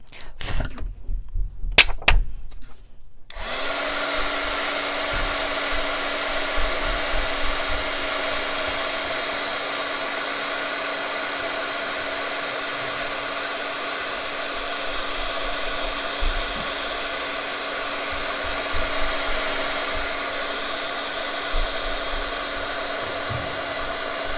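A handheld heat tool blows hot air onto embossing powder to set it, starting after a few clattery knocks and then holding a steady, loud, even whir to the end.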